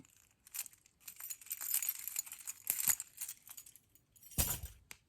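A set of keys jangles as an item is worked off the keyring, light metallic clinks and rattles coming in uneven bursts, close but soft, with a sharper clatter near the end.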